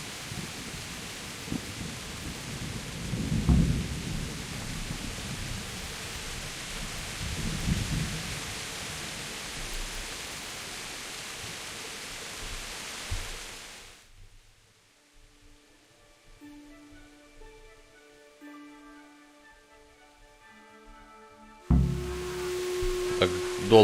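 Steady rain hisses with low thunder rumbles in Kingdom Come: Deliverance, then cuts to quiet game tones before the rain noise returns.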